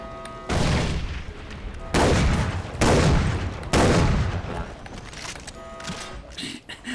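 Shotgun fire in the video game Far Cry 3: Blood Dragon, four loud, booming blasts spaced about a second apart, each trailing off, with game noise between and after.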